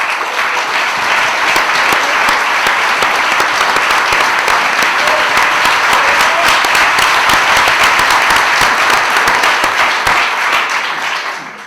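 Loud, dense audience applause at an association presentation in a casino hall, sustained evenly for about eleven seconds before beginning to taper at the end, with no speech over it.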